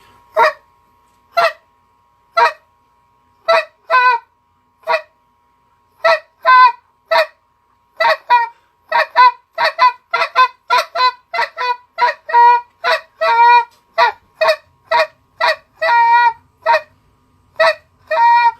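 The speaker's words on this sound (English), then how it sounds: "So that's a quiet spit and kind of a clear tubey sound and moan." A series of short, sharp goose-call honks and clucks, some quick and clipped, others drawn out, repeated in irregular bursts with silence between.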